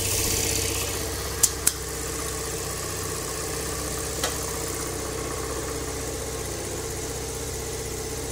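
A motorcycle engine idling steadily during a clutch adjustment test, a moderate, even low hum with a couple of sharp mechanical clicks early on and a faint tick later, with no talking.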